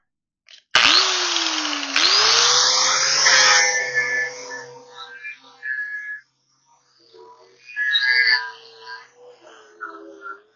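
A power tool spins up sharply and grinds steadily, then works in shorter bursts as it cleans weld slag off freshly welded areas of a trailer before painting; close and loud, with no talking.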